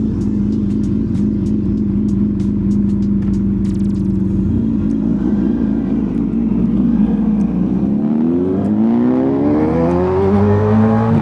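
A motorcycle engine revs hard up close, a loud throbbing idle giving way to rising, climbing revs that swell and sweep upward toward the end.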